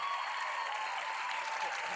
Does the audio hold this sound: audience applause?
yes